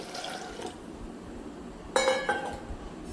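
Water splashes and gurgles into a metal pressure cooker with a brief clink, a short pouring burst after a quiet stretch.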